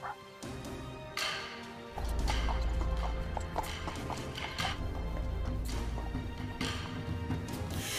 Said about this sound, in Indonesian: Fan Xian menunggang kuda dan berpatroli di ruang ujian.